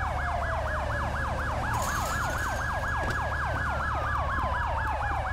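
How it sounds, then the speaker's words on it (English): A wailing police siren in a video game cycles rapidly up and down, loud and steady, with a second slower sweeping tone layered over a low engine hum. "You gotta turn my sirens."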